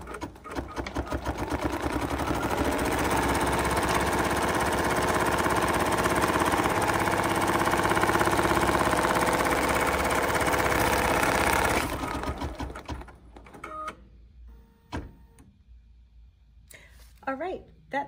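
A BERNINA embroidery machine stitches a stumpwork design with a steady, loud, rapid mechanical whirring and needle rattle that runs for about twelve seconds, then stops, leaving quieter clicks and handling noises.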